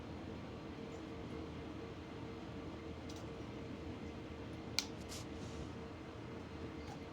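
An SD40-S locomotive descending Sand Patch Grade in Train Sim World 6, a low steady rumble and drone of the moving train with faint ticks and a single sharp click near the middle.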